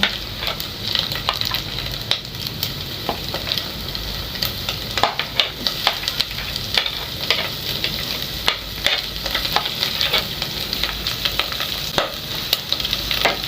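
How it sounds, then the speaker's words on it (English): Onions fry in a pan with a continuous sizzle while a spoon scrapes and clicks against it in frequent irregular strokes, close and busy, with no talking. "Then we let the onions cook."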